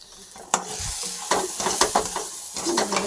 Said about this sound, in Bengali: আর একটু ভেজে নেব সামান্য।